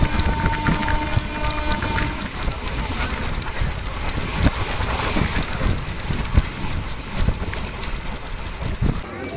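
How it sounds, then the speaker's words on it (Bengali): A train departing Tamluk for Digha in India rumbles along steadily, with rattling clacks and wind buffeting throughout; the rolling noise stays loud and continuous. "তমলুক থেকেও দু মিনিট দাঁড়িয়ে আমাদের ট্রেন ছেড়ে দিল দীঘার উদ্দেশ্যে"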